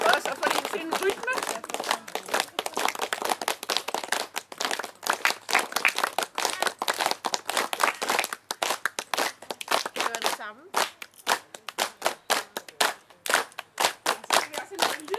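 Rhythmic hand clapping with open fingers during a laughter session in a garden, a fast run of sharp, close claps in a steady beat that carries on throughout, with someone talking over them and a short pause near the middle.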